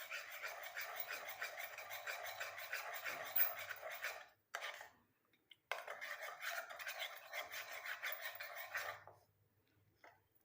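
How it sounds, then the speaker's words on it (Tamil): Homemade face cream ingredients being stirred together, giving quiet, close scraping and swishing strokes in two steady bursts separated by a brief pause, with no talking. "நல்லா இதை மிக்ஸ் பண்ணி விடுங்க."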